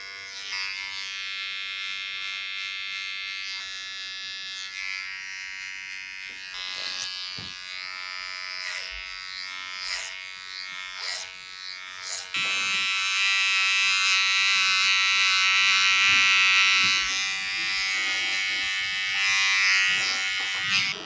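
Electric hair clippers tapering the sides of a man's haircut, buzzing steadily up close throughout, the pitch shifting as the blade moves through the hair, louder in the second half.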